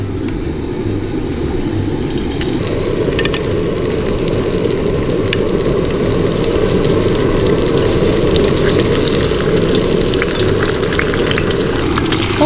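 Onions and hot dog toppings frying in hot oil at a campsite, a steady loud sizzle that swells after a few seconds as more food goes in, continuous with faint clatter, no talking.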